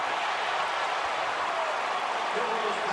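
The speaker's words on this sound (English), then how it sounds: "And the crowd goes wild again" Crowd noise roars steadily through the stands at the Alabama at Arkansas college football game, 2022, a dense continuous wash of cheering that holds at the same level throughout.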